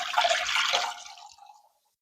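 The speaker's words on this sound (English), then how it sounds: "I'm just going to pour it in the pan." Four cups of chicken stock pour from a container into a pan for egg drop soup. A close, splashing liquid rush runs for over a second, tapers off and ends in silence.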